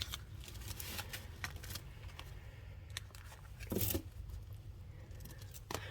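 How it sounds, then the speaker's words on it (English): A gold embossed tarot deck in the Lo Scarabeo style is shuffled by hand, giving soft continuous card riffling and flicks that swell briefly near the end. Low background hum runs underneath. "Let's give it a good shuffle."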